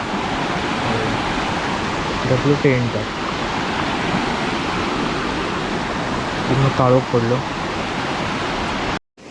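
Constant rushing roar of heavy rain at a riverside tent campsite fills the scene, with someone speaking briefly over it twice.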